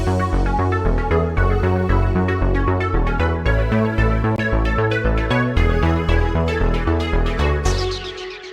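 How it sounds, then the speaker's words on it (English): Sampled-sounding string pad in an 80s Italo and Euro disco production, thickened with reverb, delay, bitcrusher and chorus, playing sustained chords over a steady pulsing bassline and beat, loud and continuous without talk. "You can hear that really sampled sounding string pad."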